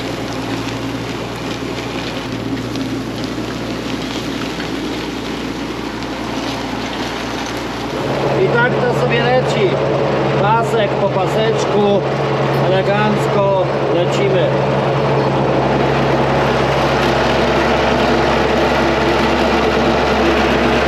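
A tractor engine drives across a meadow with a steady, close, low drone that grows louder and rougher partway through, with wind buffeting the microphone.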